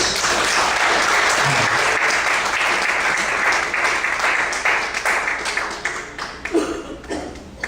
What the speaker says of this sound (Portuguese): Será que você pode aplaudir bem forte a Deus?